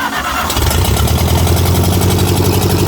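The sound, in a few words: 1953 Ferguson TO-30 tractor engine starting and running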